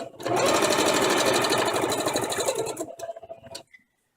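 Sewing machine stitching fabric onto a handmade embellished ribbon, one loud, fast, continuous whirring run lasting about three seconds before slowing to a few final stitches and stopping.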